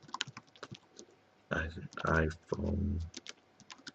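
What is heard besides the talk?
typing on a computer keyboard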